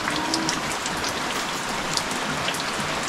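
Steady rain pours down during a typhoon, a dense continuous hiss of drops hitting surfaces with occasional sharper patters, loud and close with no voices.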